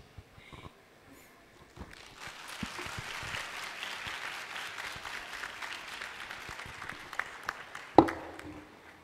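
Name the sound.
audience applause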